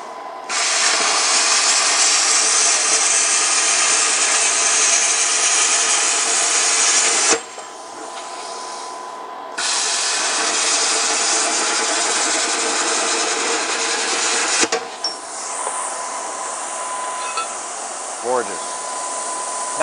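A Cutmaster 60i plasma cutter slices quarter-inch aluminum and quarter-inch stainless steel in two back-to-back cuts, each a loud, steady, hissing roar of several seconds separated by a short pause, followed by quieter handling sounds.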